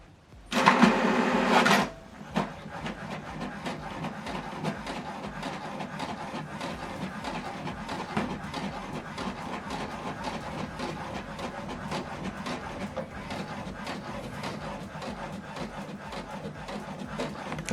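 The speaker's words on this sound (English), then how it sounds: "Now this document is printing." An HP Deskjet 2800e inkjet printer runs a document job, opening with a loud mechanical burst of about a second and a half, then settling into quieter, rhythmic whirring and ticking of the paper feed and moving print head.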